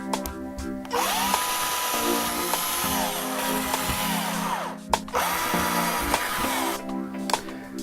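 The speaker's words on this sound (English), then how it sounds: "it's time to drill." A power drill bores mounting holes into a wall for acoustic panel impalers, whining in long steady runs with brief stops and restarts, loud and close.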